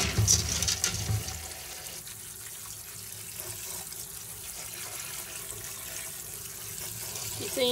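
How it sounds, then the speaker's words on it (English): Tap water runs steadily while garbanzo beans are rinsed in a sink. A louder splash comes at the start, then a constant close wash of flowing water continues throughout. "we're going to wash these garbanzo beans off like we did all our other beans we've canned before. Just get them a good rinse."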